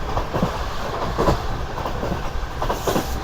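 Pakistan Railways Business Express train speeding along the track at over 100 km/h, a steady loud rumble with rhythmic clickety-clack of wheels on rail joints throughout.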